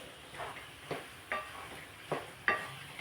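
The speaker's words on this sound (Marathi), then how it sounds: "हे मिश्रण आपल्याला परतून घ्यायचे" Sugar and grated fresh coconut stirred in a pan for Khandeshi coconut wadi, with soft scraping strokes roughly every half second over a faint steady sizzle, close and fairly quiet.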